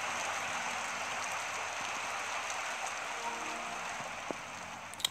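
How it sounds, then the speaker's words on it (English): Steady rain falling and pattering on surfaces outdoors in the morning, a continuous even hiss with a few louder drips near the end, heard alone without talk. "Well, it's raining."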